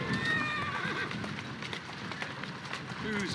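Horse hooves clip-clop steadily with whinnying and neighing in the Assassin's Creed Syndicate video game, a horse-drawn scene in Victorian London, loud and continuous with a game score playing underneath.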